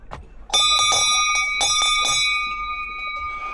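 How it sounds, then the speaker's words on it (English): Bear bells jingle on a busy hiking trail in Kamikochi, bright metallic rings arriving in a quick cluster of repeated strikes, then a sustained tone that slowly decays, close and clear against quiet outdoor ambience. "there are so many people here with bear bells"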